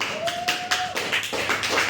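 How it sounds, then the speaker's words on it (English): Applause for guests being brought out for games, a burst of hand claps with a steady patter over roughly two seconds, fairly close and clear. "Please applause"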